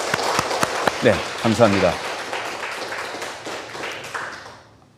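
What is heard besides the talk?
audience applause in a church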